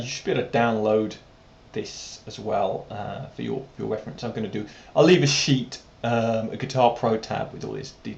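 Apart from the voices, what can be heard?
No everyday noises stand out.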